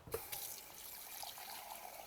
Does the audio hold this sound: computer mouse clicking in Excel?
no